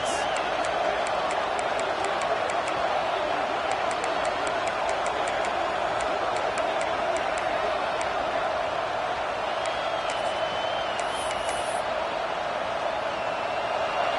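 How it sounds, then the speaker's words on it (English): A packed football stadium crowd roars with constant, loud, dense noise, cheering and whooping steadily throughout with no break. "This crowd bringing the energy and noise early"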